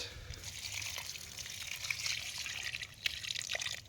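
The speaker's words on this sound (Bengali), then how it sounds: "জল প্রত্যেকটা গাছের গোড়া জল দিই" Water trickles and splashes softly onto the base of potted plants in a roof garden, a faint, continuous dribble with no talk over it.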